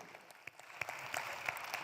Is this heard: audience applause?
yes